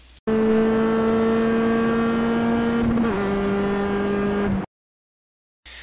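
A Mazda MX-5 racing car engine in the iRacing video game at Okayama revs hard at a high, steady pitch near the rev limiter, dips briefly as the gear changes, then cuts off abruptly into silence.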